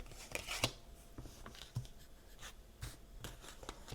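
Tarot cards being drawn one by one from a deck make a string of soft, irregular papery snaps and taps, close and quiet, with no one talking.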